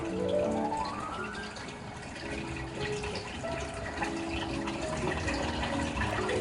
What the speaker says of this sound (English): That siphon is sucking that water down to that 1 inch level.